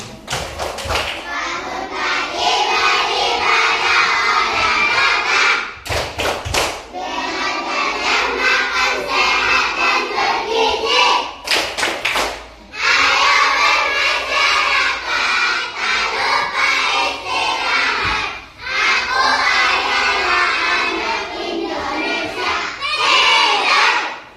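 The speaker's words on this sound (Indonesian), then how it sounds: "Kita coba dulu tepuk anak Indonesia hebat." Children chant loudly in unison during the Tepuk Anak Indonesia Hebat clapping chant, with bursts of rhythmic claps between long shouted stretches, repeated several times.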